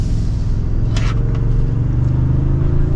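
A 2024 Toyota Tundra 1794 TRD Offroad full-size truck cruises along with a steady, loud engine and road rumble heard from inside the cab, plus a brief scrape or rustle near the start.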